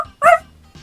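A dog in a party video game gives one sharp, high yelp, followed by a fainter short whimper, with no speech.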